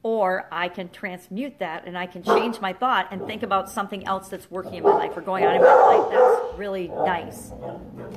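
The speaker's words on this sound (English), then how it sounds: "Sorry about the dogs." Dogs bark and yip repeatedly in the background while someone speaks steadily over them, the barks intermittent and partly buried beneath her voice.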